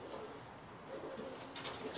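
Racing homer pigeon, a red bar or grizzle bird just returned from a 160 km race, cooing softly amid low murmuring loft ambience, with a faint higher call near the end.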